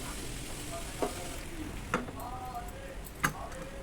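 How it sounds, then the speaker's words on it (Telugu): Eggplant tossed with onion chili paste in a frying pan, a steady sizzle with a few spatula scrapes and clinks at intervals, close by and without talk. "స్లోగా మిక్స్ చేసుకోండి"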